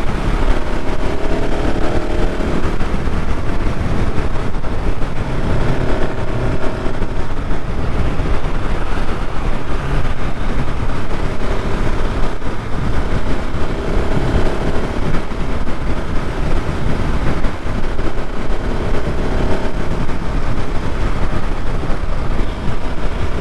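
A KTM 690 Supermoto motorcycle engine on a test ride at Americade 2021, a continuous loud rumble with wind buffeting throughout, fluctuating slightly with throttle, no speech.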